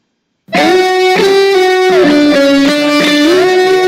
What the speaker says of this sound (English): we are able to hear the distortion because of this, and this is a non-linear function.